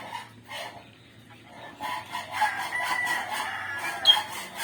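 Rooster crowing and hen clucking mix with other bird calls in a short, fairly close barnyard chorus, no talking.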